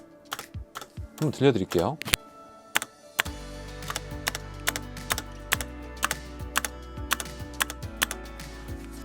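A Maxtill G610K V2 mechanical keyboard with red switches is typed on, its spacebar striking in a steady run of crisp clacks with a slightly hollow thud, close and clear after a brief spoken remark.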